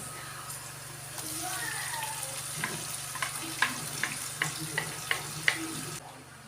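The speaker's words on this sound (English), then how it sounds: "just frying this onion alone" Onion with a pepper mix and seasoning fries in a pan, a soft steady sizzle broken by light clicking stirs and scrapes, faint and close.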